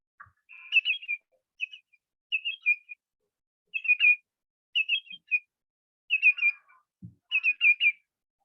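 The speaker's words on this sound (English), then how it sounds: "the greater yellow legs, which has a really harsh punchy call that's oftentimes paired or tripled" A greater yellowlegs gives a series of sharp, ringing whistled calls in quick groups of two or three, clear and fairly close against silence.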